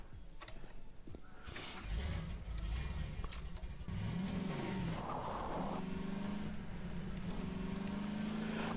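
Car engine droning steadily in Garry's Mod, a low motor hum with revving swells and shifting pitch, close and continuous throughout without talk.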